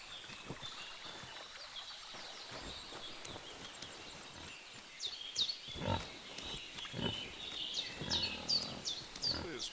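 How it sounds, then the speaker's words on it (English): A wild boar in Kingdom Come: Deliverance 2 grunts and snorts in rough bursts, growing louder and more frequent in the second half against outdoor game ambience with bird calls. "Hopefully this pig doesn't decide to just run up on me."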